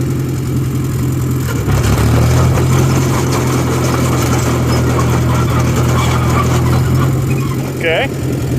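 Loud, steady engine drone from a John Deere 1010 crawler bulldozer moving in third gear, heard up close with a constant low throb and a brief shift in pitch partway through; a voice speaks over it.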